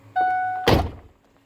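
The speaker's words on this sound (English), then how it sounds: "let me shut the door" A pickup truck's door slams shut once with a solid, close thunk, following a steady hum with a faint whine, then quiet afterward.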